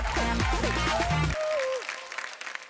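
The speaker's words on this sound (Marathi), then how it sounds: "खूप खूप टाळ्या" An audience claps on a children's dance competition stage. A burst of music plays at first and then cuts off, leaving the clapping to continue more thinly under a fading tone.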